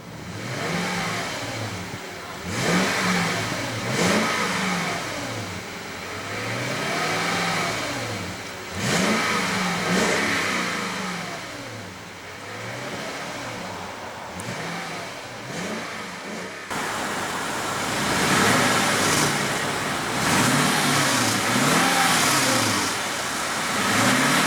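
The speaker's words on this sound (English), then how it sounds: "And let's go ahead and rev it up." A 2016 Lexus LX570 with a 5.7 L V8 is revved repeatedly, rising and falling engine swells from idle, loud and close, with a stronger sustained rev near the end.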